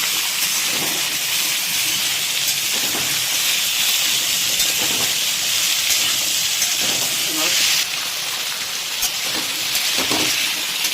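Potatoes and radish frying in hot oil in a Bengali home kitchen, a loud, steady sizzling hiss that shifts slightly partway through, with light stirring clinks underneath.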